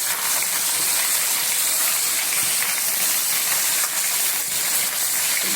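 Water pours into a cooking pot holding garlic for an Egyptian fried chicken and potato dish, a steady gushing hiss that runs unbroken for over five seconds.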